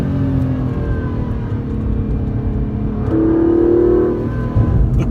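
Aston Martin DB11 engine accelerating on a road, a loud, close, sustained growl that rises in pitch and swells toward the end, heard alone without talk.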